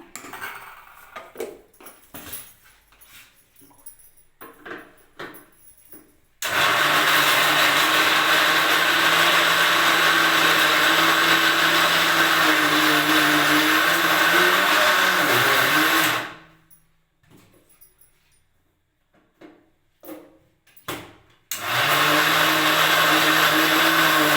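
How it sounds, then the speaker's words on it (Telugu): Mixer grinder crushing dry fruits for laddu, running loud and steady for about ten seconds, stopping, then starting again after some clattering and handling noises between runs. "ఇంకొకసారి కూడా మిక్సీ చేస్తున్నా"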